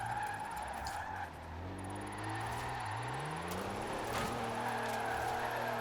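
A diesel drift car in Forza Horizon 4 drones steadily while its engine note rises and falls, with sustained tyre screech laid over it. Both stay loud and close throughout, with no talking.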